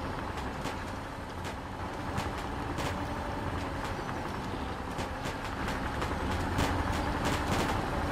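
Broken-down truck engine in the video game Spintires MudRunner, sputtering and rumbling steadily with repeated sharp pops and crackles throughout, loud and continuous with no talk over it.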